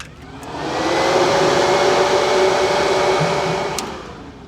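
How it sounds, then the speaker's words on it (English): The Briggs & Stratton engine of a HUAYEE HY14C mini excavator runs with a loud, steady, broadband roar that swells up after the key is turned and holds evenly, close by, with no talking. "So we turn on the key."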